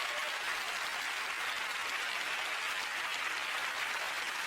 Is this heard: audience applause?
yes